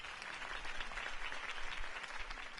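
Crowd applause in a city setting from the Batman Telltale Series video game, a dense, steady wash of many hands clapping at moderate level without a break.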